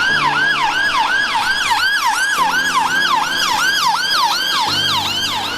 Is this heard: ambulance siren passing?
yes